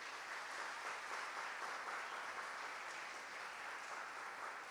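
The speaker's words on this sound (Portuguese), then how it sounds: "Dê uma forte salva de palmas para o Senhor." Steady applause from a large church congregation, a dense, even clapping that holds without a break throughout.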